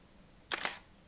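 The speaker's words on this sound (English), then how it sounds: "I'm just going to select this shutter sound" Camera shutter sound effect, a quick double click of the shutter, crisp and brief against near silence.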